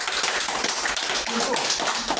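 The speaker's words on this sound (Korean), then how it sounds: "큰 박수 부탁드립니다." Applause from a seminar audience, a steady patter of many hands clapping together at close range, filling the short stretch without a break.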